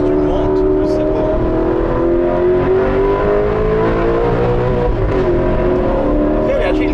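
An Alfa Romeo 8C Spider's engine drones loudly and climbs gradually in pitch as the car pulls through the revs, with people talking over it inside the cabin.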